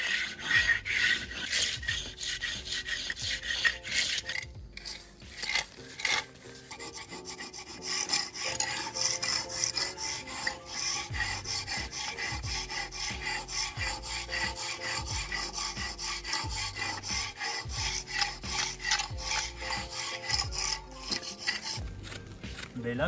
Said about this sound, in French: je suis en train d'aligner un petit peu les joints, histoire d'avoir des joints tout droits, bien alignés. Et je gratte le haut de la pierre.